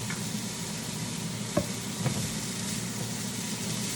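Food fries in oil in a pan during meal prep, a continuous close sizzle with a couple of brief utensil knocks, no voices.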